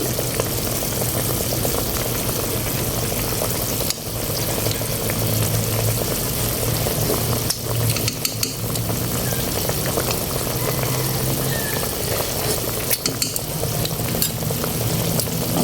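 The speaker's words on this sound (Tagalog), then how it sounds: "Ayan, nakulo na po ang ating sinuan." A pot of sinuam na dalag, a mudfish soup, bubbles and simmers close by, with a continuous rough, churning boil and occasional soft clinks, with no voices.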